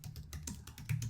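Soft, rapid keystrokes on a computer keyboard as a private comment is typed into Google Classroom, a quiet run of irregular clicks close by with no talking.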